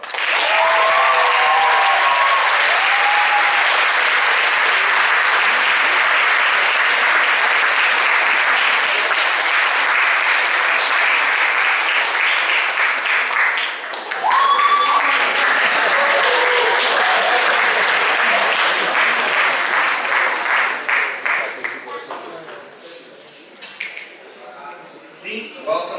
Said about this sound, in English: Please give a round of applause for Diego Lopez Rojas.